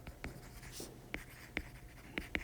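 Writing by hand while working through hydrogen atom quantum chemistry, soft close scratching strokes with several sharp taps, like a pen or marker on a surface, in a quiet room.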